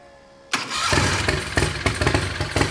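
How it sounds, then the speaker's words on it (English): Predator 670 dragster engine, fitted with a bigger turbo, cranks and fires up after a quiet lead-in, then settles into a loud, rough running burble with rhythmic pulses close to the microphone. "Fires right up."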